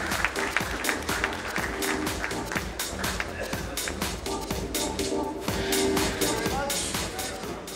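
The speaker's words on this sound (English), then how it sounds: "A big round of applause to welcome Thomas" Audience applause fills a conference hall at a print industry summit as speakers take the stage, steady dense clapping lasting throughout with a faint tonal hum underneath and some murmuring voices.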